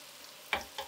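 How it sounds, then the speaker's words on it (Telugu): Eggplant pieces frying in oil in a pan, a quiet steady sizzle with two short louder bursts of stirring or spattering near the end. "వంకాయ ముక్కలు చూడండి ఎలా ఉన్నాయో, చక్కగా ఏగుతాయి నీట్గా ఆయిల్లో"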